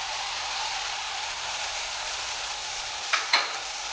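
Masala being stirred into tamarind pulp in a hot pan for a stuffed fish dish, a steady soft sizzle throughout with two brief scraping clinks of a spoon near the end.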